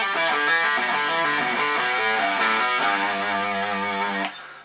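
An electric guitar plays the second bar of a solo, a distorted lead phrase of sustained, bending notes that is loud and alone before ringing out and cutting off.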